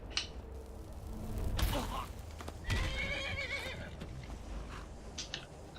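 A horse in Skyrim neighs loudly with a shrill whinny, amid hoof clip-clops and thuds in the game, while a person talks over the sounds.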